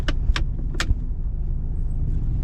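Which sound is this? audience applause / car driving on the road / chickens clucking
car driving on the road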